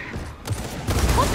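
A short burst of rapid gunfire in the video game Gears of War 4, with quick overlapping shots close by.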